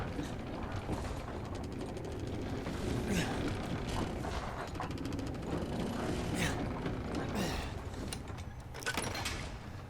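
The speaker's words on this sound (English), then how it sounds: "let's go ahead and put this crank on inside where it's supposed to go to open up this door." A crank turns to unlock a door in Resident Evil Village, giving a long run of close, rapid ratcheting clicks and grinding gear sounds with occasional creaks, loud and continuous with no talking.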